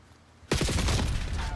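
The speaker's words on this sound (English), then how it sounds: "And then I have to fill him with double the amount of bullets." A full-auto gun in a video game opens up after a short quiet, a loud sustained stream of rapid shots that runs to the end.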